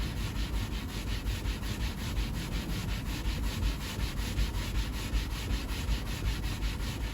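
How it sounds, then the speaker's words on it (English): A clean dry cloth rubbed hard back and forth over a scuffed leather seat in a Peugeot 504, a steady rapid swishing friction repeated many times without pause, close and loud. "just grab a clean dry cloth and just rub about 20 times"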